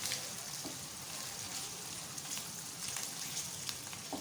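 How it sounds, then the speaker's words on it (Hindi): Onions and green chilies frying together in a pan, a soft, even sizzle that crackles continuously at low volume with no talking. "इनको इकट्ठे भूनेंगे"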